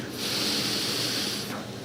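Deep, loud breathy exhale during a chanting breathing exercise, a steady rushing hiss that holds for over a second and then tails off, close and alone.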